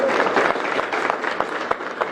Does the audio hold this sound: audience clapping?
yes